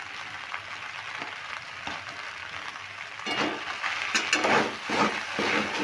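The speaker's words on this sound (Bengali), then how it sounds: "দেখো সাবুটা দিয়ে ভালো করে নাড়তে হবে এইভাবে" Sabudana pulao with a little ghee is stirred in a hot cooking pan, a steady soft sizzle joined by scraping, rustling strokes that grow louder and denser toward the end, with no talking.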